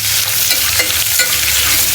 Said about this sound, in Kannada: ಈರುಳ್ಳಿ ಇದಾಗೋವರೆಗೂ, ಅದೇ ಗೋಲ್ಡನ್ ಕಲರ್ ಬರೋವರೆಗೂ ಅದನ್ನು ಫ್ರೈ ಮಾಡ್ಕೋಬೇಕು